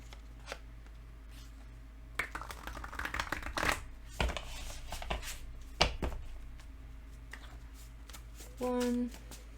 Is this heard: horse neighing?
no